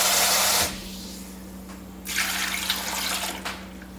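Tap water running into a blender jar holding coconut, poured in two bursts with a short pause between them, close and fairly steady.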